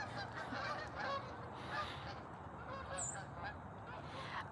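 Geese honk repeatedly outside, a busy chorus of overlapping calls, faint and a little muffled, with no talking over them.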